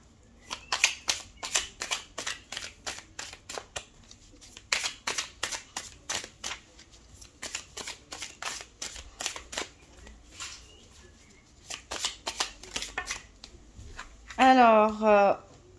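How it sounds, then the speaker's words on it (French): Tarot cards are shuffled in quick bursts of crisp riffling and snapping, pausing between rounds before a card is drawn, with a short stretch of speech near the end. "on va tirer pour terminer une petite carte du Morgan Tarot"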